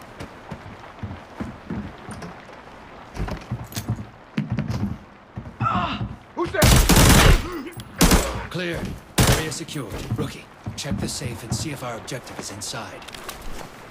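Gunfire in the mobile looter shooter Arena Breakout, several sharp bursts clustered near the middle, loud and close, mixed with in-game movement noise and a voice talking over parts of it.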